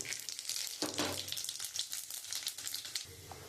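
Bay leaf, dried chili and panch phoron sizzle in hot oil where fried lentil badi was just cooked, a steady crackling fry with a sharp burst as the spices hit, continuous and close throughout.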